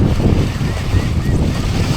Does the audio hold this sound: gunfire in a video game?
no